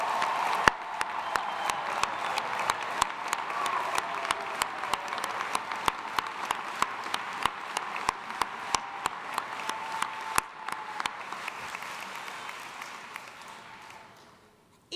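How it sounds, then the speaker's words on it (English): Applause from a graduation commencement audience in an arena, a steady broadband wash of many hands with a few sharp, louder claps standing out, holding for most of the clip before fading away at the end. "join me one more time in giving these graduates a round of applause"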